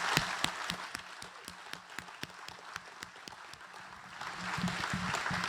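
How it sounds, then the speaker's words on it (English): An audience at a startup demo day event claps steadily, a scattered round of applause with sharp individual hand claps that swells slightly toward the end. "really a big round of applause for all the team"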